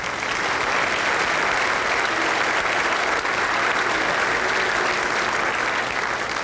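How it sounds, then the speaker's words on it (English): Sustained applause from the audience at a 1997 high school spring band concert, steady dense clapping filling the hall throughout, loud and continuous with no break. "please feel free to give them a big round of applause"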